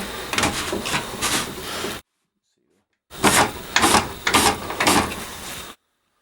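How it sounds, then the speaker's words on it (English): A table saw fence sliding along the groove of a mobile station built for a DeWalt DW745, two bursts of rubbing, scraping strokes separated by a short silence, close and fairly loud. "Fence slides."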